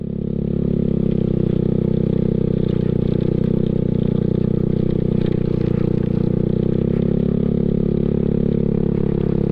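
A Yamaha Mio Sporty scooter rides a rough, potholed road near Sto. Domingo, Batangas City, its engine droning steadily and loud with constant rattling and wind rumble throughout.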